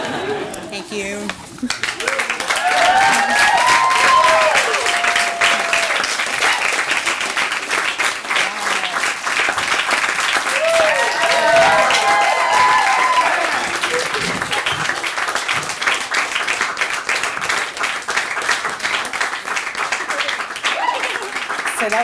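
An audience applauds a comedy reading, bursting into sustained clapping with some cheers that holds strong for many seconds, then slowly thins toward the end.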